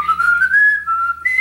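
Someone whistles the Harlem Globetrotters theme tune in a close, loud, sustained phrase that slides slowly upward and then jumps to a higher note near the end.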